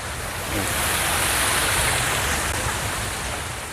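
Steady roar of water pouring at Kra Ang Waterfall campsite in Nakhon Nayok, a broad continuous rushing wash that holds at a constant, fairly loud level with no voices.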